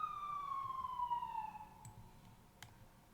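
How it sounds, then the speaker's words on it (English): Emergency vehicle sirens on a street near a hotel wail in a falling sweep from a distance, fading gradually, with a couple of faint clicks afterward and no talk. "you hear the sirens coming down the street to the other hotel"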